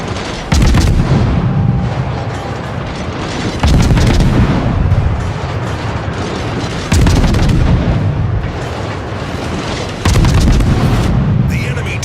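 Naval guns aboard a warship in a naval combat video game fire on the battleship Richelieu: four heavy booming salvos roughly three seconds apart, each a loud sharp blast trailing into a rumbling decay, under faint background speech.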